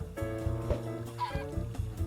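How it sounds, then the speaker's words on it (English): Minecraft chickens cluck in short, repeated bursts, fairly quiet and close, with no voices over them. "Kohaku throwing more eggs, making more chickens."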